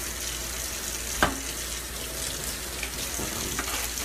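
Silverware, a mix of forks, spoons and knives, being washed in a kitchen sink: steady running tap water with a sharp clink early on and a few softer knocks and rattles.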